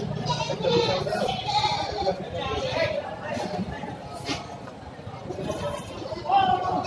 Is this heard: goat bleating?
yes